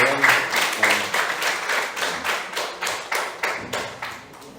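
A church congregation claps in a steady, rhythmic beat, each clap sharp and evenly spaced, gradually softening over a few seconds.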